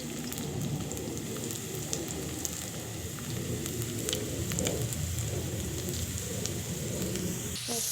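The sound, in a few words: potatoes frying in a pan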